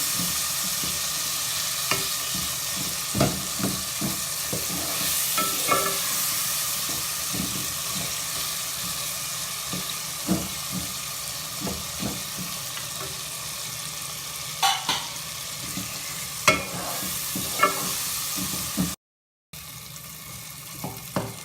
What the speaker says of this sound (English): These are softened, so we'll smash them.